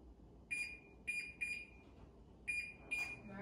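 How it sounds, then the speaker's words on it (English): Oven being set to 350 degrees: five short, high electronic beeps in an irregular sequence, faint over a quiet room hum, with no speech. "the first thing I'm going to do is start the oven on 350."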